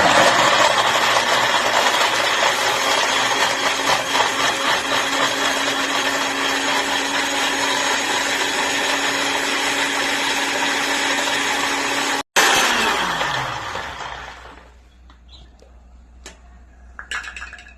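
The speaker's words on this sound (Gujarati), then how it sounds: "પછી એને આપણે મિક્સરમાં ગ્રાઇન્ડ કરીએ." A mixer grinder whirs loudly and steadily for about twelve seconds, blending soaked makhana, milk, dry fruits, dates and paneer, then cuts off and its motor winds down into near silence.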